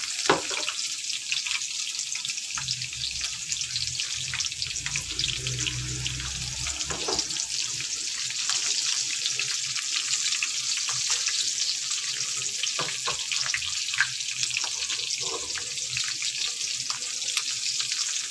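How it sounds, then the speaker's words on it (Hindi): Garlic turning golden in hot oil with green chilies added, a constant bright sizzle with crackles and spatters running throughout, close and even. "जब ये हल्का सा लाइट लहसुन गोल्डन हो रहा है तो अब मैं हरी मिर्चें डालूँगी इसमें"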